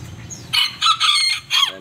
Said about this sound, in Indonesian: Sini juga ada ayam KT nih teman-teman.